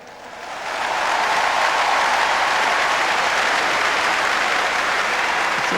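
A large stadium crowd bursts into sustained applause at the Commonwealth Games opening ceremony in Delhi, swelling within the first second into a loud, steady roar of clapping that holds to the end.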